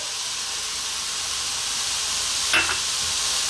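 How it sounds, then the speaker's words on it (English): Olive oil and onions sizzle steadily in a pan, an even close hiss with no talk and a brief clink near the end. "We're now going to add the oil. I'm using some olive oil."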